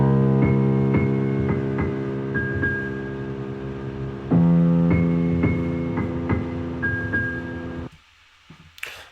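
Original piano sample track from a remix: clean piano chords and single notes in a steady, repeating pattern, close and clear, with a new chord entering midway before the phrase breaks off near the end.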